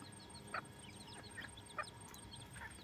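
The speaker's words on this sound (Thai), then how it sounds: "นี่เป็นไก่ป่า" Scattered clucks and short calls from a few free-ranging jungle fowl chickens, faint and somewhat distant, over quiet outdoor ambience.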